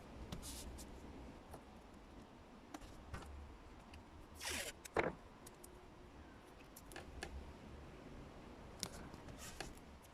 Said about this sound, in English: I'm going to stick down some masking tape onto my bunts to create a pattern.